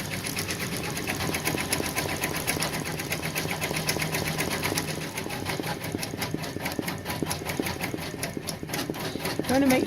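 An embroidery machine stitching grass detail thread, a fast steady mechanical chatter of needle strokes running continuously at close range with a faint voice over it.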